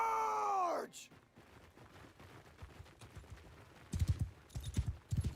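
In the medieval combat game Mount & Blade II: Bannerlord, horse hooves thud in a short uneven cluster near the end. The hoofbeats follow a groaning voice and a stretch of low murmuring background.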